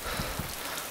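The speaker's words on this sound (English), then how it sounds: "Why is this server rain so fucking much?" Steady, dense rainfall pattering across surfaces in the video game DayZ, a continuous wash of drops with no voices over it.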